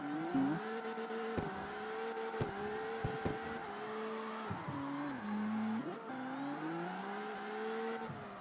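Nissan Skyline R34 in the CarX Street racing game, its engine revving hard with steady high-pitched whine and sharp drops at repeated gear shifts, loud and close, no talking.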